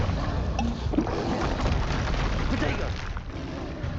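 Explosive Confringo spell blasts in the Hogwarts Legacy game, a dense continuous rumble of booms and crackling bursts filling the whole stretch, loud and sustained with a muffled low end.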